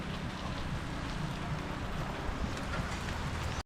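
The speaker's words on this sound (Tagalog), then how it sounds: "Grabe ang ulan ngayon dito" Heavy rain pours in a dense, steady hiss of drops striking surfaces, close and continuous, cutting off abruptly at the end.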